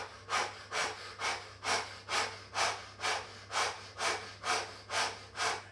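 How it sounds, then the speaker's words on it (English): During a yoga boat pose, a person does breath of fire, giving about a dozen forceful, even, rhythmic exhales through the mouth at roughly two per second, close and breathy, with no talking. "Maybe breath of fire through the mouth."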